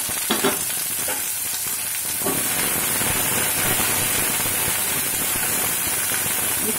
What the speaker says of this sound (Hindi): इसको ब्राउन होने तक भून लेंगे।